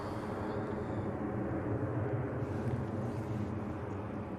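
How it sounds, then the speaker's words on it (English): An EasyJet airliner banking north just after departure from Manchester Airport, heard as a steady, broad jet roar that holds at an even level throughout without fading. "EasyJet, and it's banking off immediately to the north"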